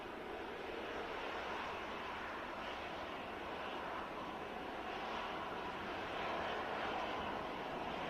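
An EasyJet airliner climbing out after takeoff leaves a distant, even rumbling roar that swells slightly toward the end, heard alone without speech.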